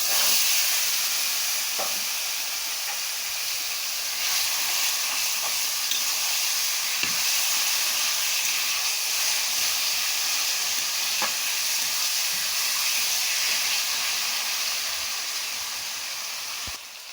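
Taro leaves fry in hot oil with a steady, dense sizzle and hiss that keeps going without a break, with faint clicks scattered through it and no voices.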